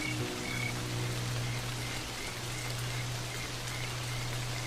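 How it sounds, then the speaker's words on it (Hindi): Unseasonal rain falls steadily in the Serengeti savanna, a dense even hiss, while frogs keep up a sustained low droning croak with faint repeated higher chirps over it. "ये बेमौसमी बारिश बंद होने का नाम ही नहीं ले रही"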